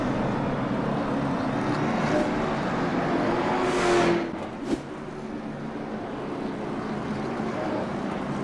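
Late model race cars at Slinger Speedway make a steady, loud roar of engines under broad crowd and track noise, with a brief swelling pass near the middle and a sharp knock just after.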